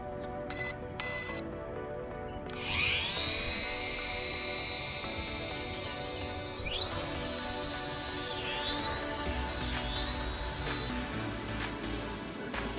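A cheap F69 Discovery2 folding drone flies outdoors, its motors making a high, thin whine that swoops up and down in pitch as it manoeuvres, over faint background noise.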